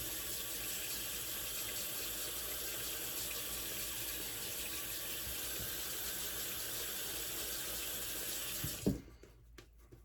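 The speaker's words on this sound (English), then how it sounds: "Add a little bit more water." Water runs steadily from a tap into a tub, a loud continuous splashing stream that cuts off near the end, followed by a few faint clinks.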